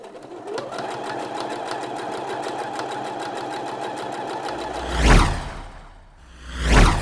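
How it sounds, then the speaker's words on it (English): A sewing machine stitches a seam on Thai wrap trousers in a steady rapid whir for about five seconds, followed by two swishing sweeps of fabric being moved. "so I'll do a line of stitching along there"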